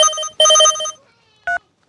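A telephone rings with a loud, clear electronic trill: two buzzing ring bursts close together, then a short chirp after a pause. No one speaks over the ringing.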